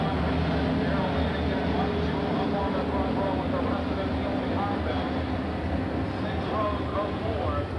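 A pack of 24 dirt late model race cars roars around Eldora Speedway four wide during the 1997 World 100, a continuous heavy engine drone, dense and steady, with a voice speaking over the noise.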